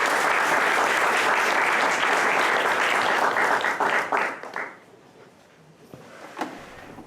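Audience applause greeting a guest speaker at the start of a university lecture, a full sustained burst of clapping that thins out and fades to quiet room tone, with a faint thump near the end.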